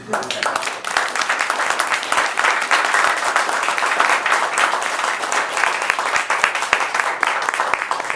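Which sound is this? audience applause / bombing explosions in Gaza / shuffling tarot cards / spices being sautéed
audience applause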